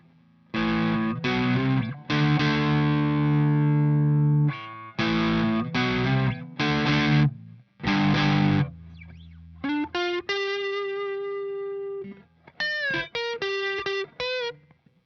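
Electric guitar distorted through an overdrive pedal plays bursts of chords and sustained notes, then a brighter run of single notes, with short pauses between phrases.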